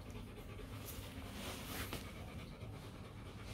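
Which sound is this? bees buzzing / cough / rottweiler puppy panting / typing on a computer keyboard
rottweiler puppy panting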